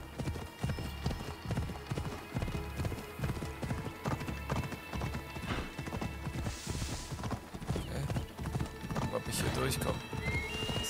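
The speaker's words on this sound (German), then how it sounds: "Lauf, kleines Pferd, lauf!" A horse gallops in Assassin's Creed Odyssey with rapid rhythmic hoofbeats and a neigh partway through, while in-game mechanical noises sit faintly underneath.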